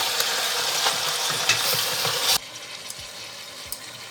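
Chopped onions fry with chicken in a pan over medium heat, a dense steady sizzle with occasional stirring clicks, then the sizzle drops to a quieter hiss partway through.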